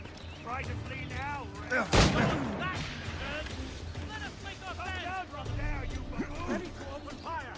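Gunfire from the Assassin's Creed Rogue video game, with one loud sharp blast standing out early amid busy game sounds and background voices.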